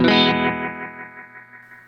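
Guitar chord run through a delay pedal, its repeats trailing off with a metallic, slightly distorted sheen, fading over about two seconds.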